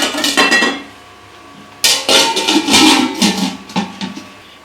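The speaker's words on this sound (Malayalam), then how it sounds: "ഒന്ന് ഇളക്കിയിട്ട് നമ്മൾ ഒന്ന് മൂടി വെക്കാം" A metal spoon stirring biryani in a pot, clanking and scraping against the sides in busy bursts, with a lid being set down over it; no talking.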